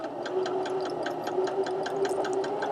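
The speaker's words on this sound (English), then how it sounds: "And I'm going to start sewing." A Husqvarna Viking Emerald 116 sewing machine stitches fabric, its steady motor hum carrying a rapid, even train of needle ticks throughout, close and moderately loud with no talk.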